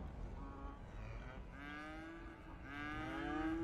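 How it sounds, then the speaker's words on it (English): Cows mooing in the city-building game Cities: Skylines, several long drawn-out moos in succession over a steady low background hum, fairly close and clear with no talk. "And we've got some normal cows."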